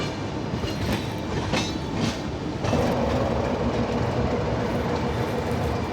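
Okha Nathdwara Express train running near Ahmedabad, with a steady loud rumble of wheels and carriages and faint rhythmic clickety-clack, a slightly louder, fuller roar joining partway through, no talking.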